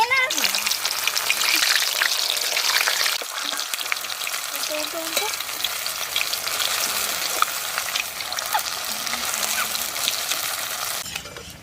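Flour puris deep-frying in hot white and mustard oil, a dense steady sizzle and crackle running the whole time with faint background voices underneath.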